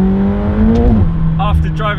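A McLaren 720S engine hums and rises in pitch while driving, heard from inside the cabin as a steady drone under someone talking.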